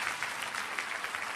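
Brief burst of dense audience clapping at a wealth seminar, close and steady throughout with no voices on top.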